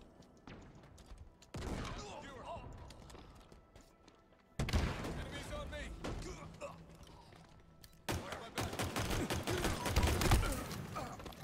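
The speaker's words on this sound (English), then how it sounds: "Fuck it, I'm throwing grenades." Grenade blasts and gunfire in the video game Halo Infinite, with sharp thumping bursts and rattling shots arriving in clusters, loud and close, while a player talks over the action.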